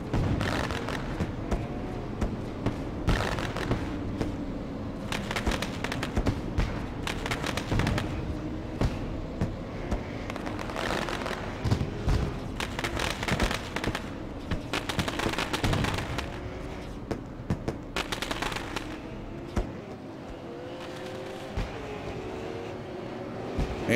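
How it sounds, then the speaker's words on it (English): Fireworks going off over Iowa Speedway after a stock car race, a dense, continuous barrage of sharp bangs and crackling bursts for the whole stretch, loud and close, with no talk over it. "Fireworks ring out in the air."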